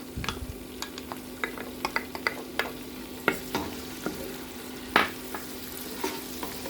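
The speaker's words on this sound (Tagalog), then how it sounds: "Let's fry until it turns to golden brown." Chopped onion frying in a pan for a Saudi-style chicken kabsa, sizzling softly with irregular clicks and scrapes from stirring, close and fairly quiet with no talk.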